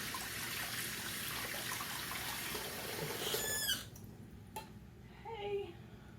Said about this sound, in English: Rinse off my hand